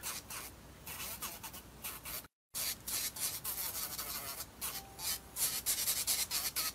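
A nail buffer rubs and shapes nails during a nail art session, giving steady close scratchy friction strokes with a brief pause partway through.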